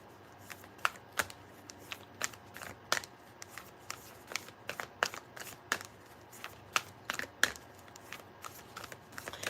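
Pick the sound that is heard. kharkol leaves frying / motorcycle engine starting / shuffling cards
shuffling cards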